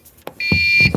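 A shrill electronic beep sounds once, loud and close, amid a few brief thumps and clicks.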